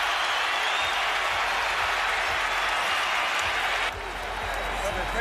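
A boxing arena crowd cheers and applauds in a sustained roar, with a commentator talking over it and the noise dipping slightly near the end.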